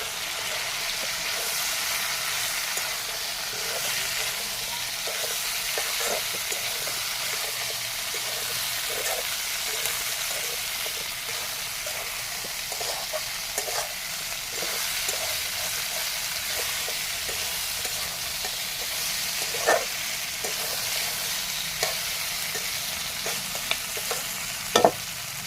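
Local chicken frying with small cut potatoes hisses steadily in a pan while a utensil stirs it, producing frequent close scraping clicks and knocks in an irregular rhythm, with a few sharper taps near the end.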